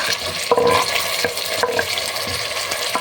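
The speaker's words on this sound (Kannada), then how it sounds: "ಈರುಳ್ಳಿ ಸ್ವಲ್ಪ ಬಾಡಿದೆ. ಈಗ ಟೊಮೊಟೊ ಆ್ಯಡ್ ಮಾಡ್ತಾ ಇದ್ದೀನಿ." Tomatoes tossed into a pan of softened frying onions, giving a steady sizzle with a few sharp scraping strokes of a spoon or spatula stirring through them, close and clear with no talking.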